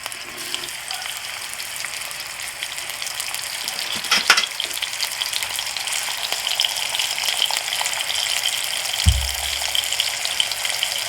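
Steaks searing in a hot oiled pan for a Cajun steak dish, giving a steady broadband sizzle throughout with a brief louder crackle burst near the middle, close and continuous with no talking.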